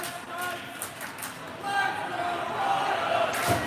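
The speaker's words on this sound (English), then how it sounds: "And the crowd coming alive" A college hockey playoff crowd at a Redeemer Royals versus Brockport game swells into a broad roar of cheering, growing louder toward the end under a commentator's speech.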